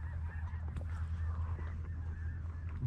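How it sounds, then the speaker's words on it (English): Geese honking at a distance, a few faint overlapping calls over a low steady background rumble. "Look at the geese going down."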